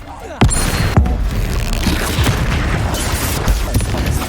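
Bombarda blasting spell in the Hogwarts Legacy video game, a sudden loud explosive boom followed by sustained roaring, crackling blast noise with further thumps, close and dense.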